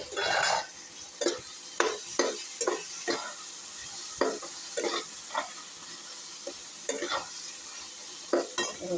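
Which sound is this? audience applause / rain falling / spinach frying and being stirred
spinach frying and being stirred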